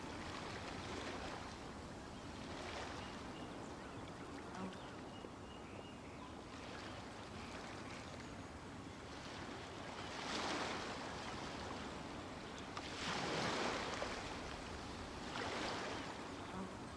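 Ocean waves surge and wash in a steady, continuous wash of surf within the Genshin Impact game world, swelling louder in a few broader breaking rushes, with no speech over it.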